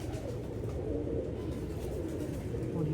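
A teddy pigeon coos softly in a low, steady rumble, faint and close against a muffled background.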